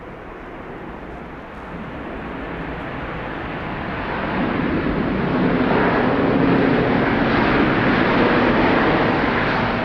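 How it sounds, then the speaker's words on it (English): A Southwest Boeing 737-700 from Orlando comes in to land at Dallas Love Field, its roar rising gradually from a moderate rumble to a louder, fuller whoosh as it nears. "Here comes flight 2184. This is from Orlando 737"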